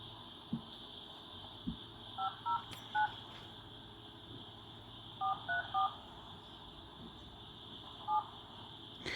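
Faint touch-tone beeps sound in short bursts, one, then a quick run of several, then a single tone, over a quiet hum.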